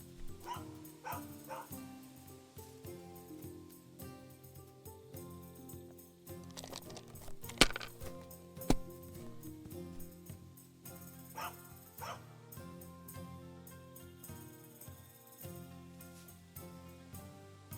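A dog in Kingdom Come: Deliverance II gives a few short, sharp barks and yips around the middle, set against a steady musical game soundtrack that runs throughout.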